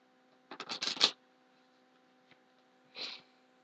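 A deck of cards is shuffled in a quick burst of rapid riffling flutters, followed after a pause by a shorter second rustle, close and quiet with no talk.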